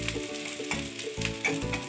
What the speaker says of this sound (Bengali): আদাটা ভাজা ভাজা করবো